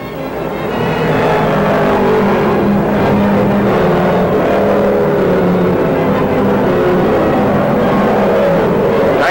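A 1968 NASCAR Grand Touring race car pulls into the pits at Rockingham or Atlanta, its engine droning loud and steady for several seconds with a rising and falling whir and no voices.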